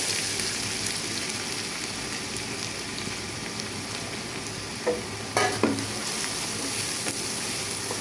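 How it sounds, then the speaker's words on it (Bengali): Onion paste fries in hot oil, giving a steady, dense sizzle throughout with a few brief stirring knocks near the end. "আমার তেলটা গরম হয়ে গেছে, আমি পেঁয়াজ পেস্তা করে নেব"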